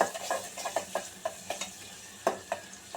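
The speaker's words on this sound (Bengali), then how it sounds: "এবার সুন্দর করে পেঁয়াজটাকে ব্রাউন করে নেব।" Onion browning in hot oil with a small bay leaf for white pulao, giving a steady close sizzle punctuated by repeated sharp scrapes and clinks of a stirring spoon against the pan.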